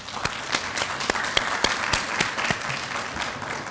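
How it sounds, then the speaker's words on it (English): Audience applause fills a Gamma Beta Phi Honor Society induction ceremony at Nash Community College, a steady wash of many hands with a few sharper claps standing out, near and fairly loud throughout. "Everybody, let's give them a round of applause."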